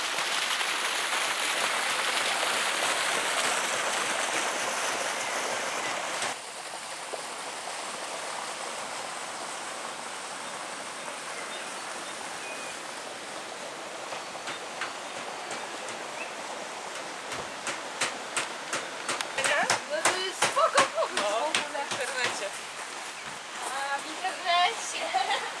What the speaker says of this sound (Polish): Tutaj wpływa świeża, górska, czysta woda.